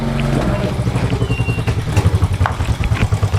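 A motorcycle engine runs close by, its pulsing, throbbing note holding steady and loud throughout with no talk over it.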